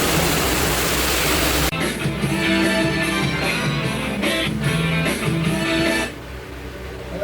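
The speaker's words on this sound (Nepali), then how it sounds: "हाम्रो घरको छेउमै खोला बग्छ" A river rushes right beside a house, a steady loud broadband roar of flowing water heard alone, near and continuous.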